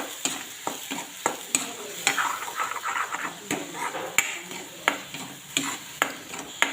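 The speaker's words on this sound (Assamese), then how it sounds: "কেৰাহীটোত অকণমান তেল গৰম কৰি লৈ সৰিয়হ বটা গোটেই জলকীয়া সৰিয়হ গোটেইখিনি যিখিনি মিক্স কৰি মিক্সিত মাৰি লৈছিলোঁ সেইখিনি গোটেইখিনি এতিয়া তেলত এনেদৰে দি দিলোঁ" Mustard and green chilli paste frying in hot oil in a wok, a bright sizzle punctuated by regular sharp taps and scrapes of a spatula against the metal.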